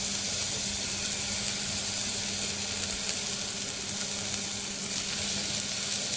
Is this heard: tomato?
yes